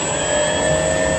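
A small plane's engine runs at high, steady revs during takeoff, a loud continuous whine with strong sustained tones and no talking.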